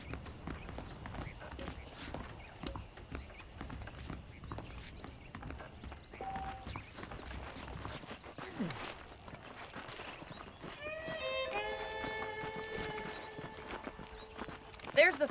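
Horses walking with clip-clop hooves in the Red Dead Redemption video game, a quiet uneven clatter of hooves throughout with a few louder thuds, joined later by distant whistling tones and a brief whinny-like sound near the end.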